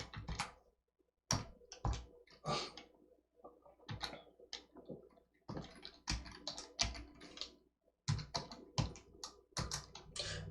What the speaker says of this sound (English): you're going to have to type this exactly like I'm typing it